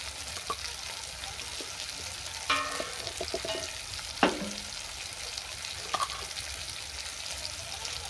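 Spice masala of turmeric and chili powder sautéing in a pan for a ridge gourd vegetarian dish, a soft steady sizzle with occasional clinks and scrapes of stirring.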